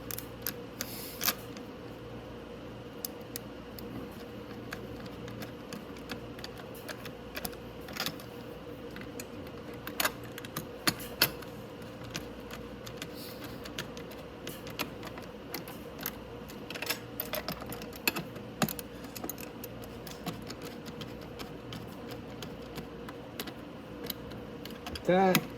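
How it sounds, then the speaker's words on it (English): Wrench tightening bolts on the footwell of a Venom E-Madix 1300w electric ATV: scattered light metallic clicks and taps, close and quiet, over a steady low hum. "Okay, so now I'm just going to take my wrench. I'm going to tighten these ones down."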